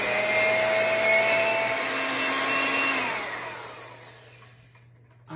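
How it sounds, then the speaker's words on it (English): An electric hand mixer whips cream for a fruit trifle, a steady loud motor whine that holds for about four seconds, then winds down and cuts off near the end. "now I'm just going to take my mixer and mix this up"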